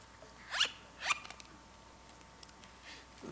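A zipper on a carried Bible cover is pulled open in two quick, close rasps, followed by faint handling noise against a quiet room hiss.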